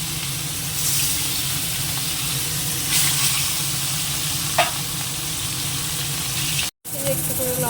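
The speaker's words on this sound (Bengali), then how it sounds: "মাছ থেকেই আগে ভেজে নিই একদম কমিয়ে রেখে হালকাভাবেই ভাজবো" Fish pieces frying gently in oil over low heat, giving a continuous even sizzle with faint water-like splashes and an occasional clink. A brief dropout comes near the end.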